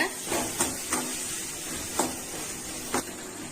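Drumstick leaves and banana flower sauté in a pan with a continuous close hiss, broken by several sharp scraping or tossing clicks spaced about a second apart.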